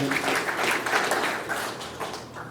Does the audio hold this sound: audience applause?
yes